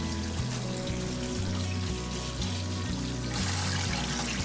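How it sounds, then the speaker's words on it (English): A steady close pour of very hot water splashes and trickles over ground beef in a colander to rinse off fat, continuous with a low rhythmic hum underneath. "pour very hot but not boiling water over it to remove the fat"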